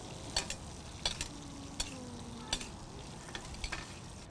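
Pickerel fillet sizzling in a frying pan while being basted, a soft steady fry with occasional light clinks of a spoon against the pan, fairly quiet and close.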